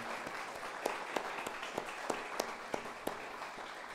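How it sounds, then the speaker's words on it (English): A church congregation at a Mother's Day worship service claps for the mothers, soft, sparse applause with a few sharper nearby claps standing out over a quiet room. "let's give them a round of applause"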